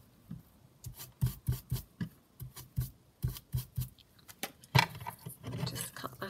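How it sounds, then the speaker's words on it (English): Distress ink being rubbed onto lace for a junk journal card, heard as a run of short, close, dry rasping strokes in an uneven rhythm, quiet and with no talking. "So again, I'm just going to kind of distress ink that."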